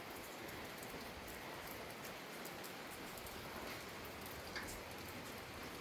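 Steady rain falls outdoors in a garden, a faint, even wash of patter with no distinct drops standing out and no talking.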